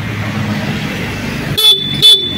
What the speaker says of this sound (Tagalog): check natin yung kanyang busina.